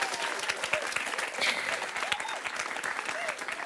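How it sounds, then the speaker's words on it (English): A live audience at a movie night event gives a round of applause, a dense crackle of many hands clapping at a steady level, with a few voices cheering through it. "We'll have a round of applause, please."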